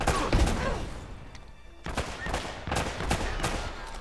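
Gunfire in the video game Uncharted: Drake's Fortune, a few distant bursts and thuds at moderate volume with short pauses between them.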